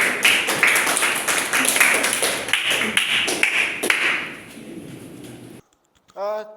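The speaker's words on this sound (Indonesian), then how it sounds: "Tepuk tangan untuk kelompok 1." A classroom group presentation ends with a round of clapping and taps from a small audience, dense and steady for several seconds before fading out, followed by a brief pause and a short spoken phrase.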